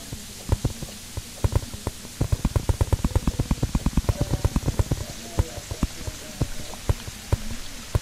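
Rain falling in the Terraria video game, a quick stream of sharp, close patters and taps, thickening into a rapid run midway before thinning out to scattered drops.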